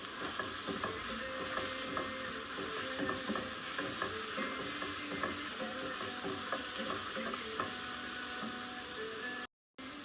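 Minced chicken fries with onions in a pan, giving a constant close sizzle with scattered light clicks and scrapes of stirring, then a brief cut to silence near the end.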